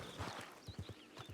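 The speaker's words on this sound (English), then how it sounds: "I'll call my horse, summon my horse, dismiss my horse" Clip-clop hooves of a dismissed horse trotting away in a video game, a quick run of soft, evenly spaced steps at moderate distance with no voices over them.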